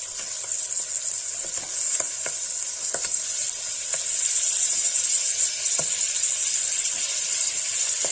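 Paneer sizzles and fries as it is stirred into sautéed Kashmiri haakh greens in a hot pan: a steady, close hiss broken by occasional sharp spatters and scraping clicks of the spoon.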